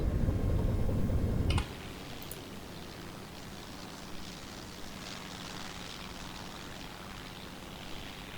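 Enemy aircraft pass overhead in the Silent Hunter 3 U-boat game set in the Battle of the Atlantic. A heavy, close engine rumble fades after a second and a half into a steadier, fainter droning hum.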